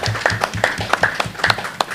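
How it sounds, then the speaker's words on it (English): An audience at a hurricane season press conference applauds, with a short burst of steady, fairly close clapping. "I think we deserve a round of applause for that."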